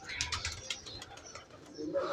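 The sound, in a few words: pigeons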